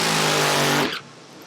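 A drag race car launching hard off the starting line at a Joliet drag strip, a loud sustained engine roar that cuts off abruptly partway through, leaving a quieter fading tail.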